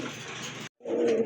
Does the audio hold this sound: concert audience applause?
no